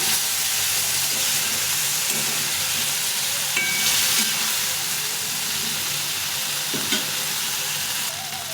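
Spiced aubergine fries in a pan with a steady, close sizzle and hiss, brief stirring scrapes breaking in now and then.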